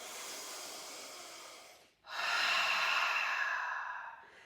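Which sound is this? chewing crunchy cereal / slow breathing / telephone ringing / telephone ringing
slow breathing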